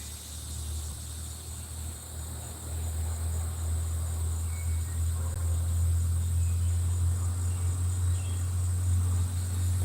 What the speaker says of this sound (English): the bugs are really making a lot of sounds now, Judy.